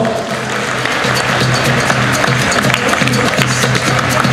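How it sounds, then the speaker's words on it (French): An audience applauds an award winner receiving a trophy at a science-fiction festival, a steady mass of clapping throughout with a low hum underneath. "Sous les applaudissements."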